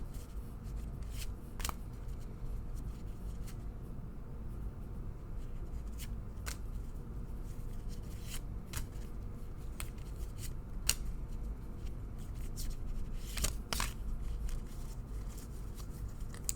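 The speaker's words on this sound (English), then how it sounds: "I shuffle until Spirit asks me to stop." A deck of cards being shuffled for a reading, soft repeated riffles and snaps spread through a quiet, faintly humming room, no voices.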